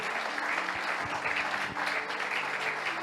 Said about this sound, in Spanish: Dale un aplauso grande al Señor entonces